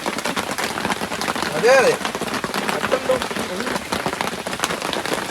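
Rain pours steadily on a forest worksite where a treehouse is being built, a dense close patter that runs through the whole stretch while someone speaks briefly over it.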